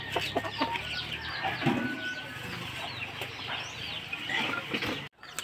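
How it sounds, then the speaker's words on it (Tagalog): Chickens roaming a rural yard cluck in scattered, moderately distant calls over a low background hum, with a few louder bursts along the way. "Yung mga manok dito"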